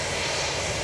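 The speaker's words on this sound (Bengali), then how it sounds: "এখন এই বিমানটি এখন টেক অফ করার জন্য রেডি হয়ে গেছে, ইঞ্জিন চালু হয়ে গেছে" A large four-engine cargo plane with its engines running before takeoff gives a loud, dense, unbroken roar that fills the moment, with no voices over it.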